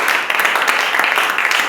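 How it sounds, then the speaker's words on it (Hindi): A congregation in a church claps together in a short, dense burst of applause, steady and close throughout. "क्या ताली दे सकते हैं?"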